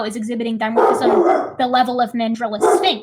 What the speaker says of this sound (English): sorry, that's a dog